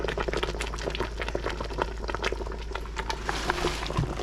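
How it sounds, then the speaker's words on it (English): Mustard greens boil down in a little water in a pot, giving a steady close bubbling and hissing with no pauses and no talking. "They're boiling down, and all those greens just went down into that little bit of water."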